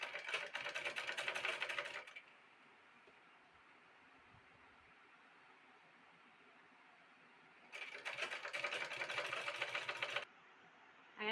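A sewing machine stitches the twice-folded hem of a baby frock in two steady bursts of rapid, even needle chatter, with a quiet pause between them.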